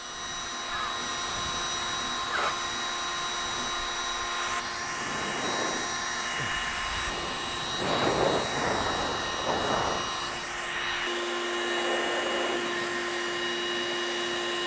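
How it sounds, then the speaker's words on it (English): Cordless leaf blowers roar steadily while blowing a tennis ball up into the air, the whine rising and swelling in surges around the middle of the run. "So we're gonna do the tennis ball test, see how high each one of these can blow a tennis ball."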